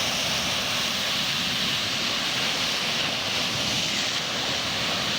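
Tsunami floodwater surges through a fish port market in a steady, dense, roaring rush, loud and unbroken for several seconds, with no voices over it.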